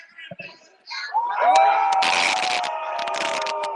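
A draft-day crowd swells into cheering and whooping, rising from scattered voices to a loud sustained roar with shouts and screams layered on top.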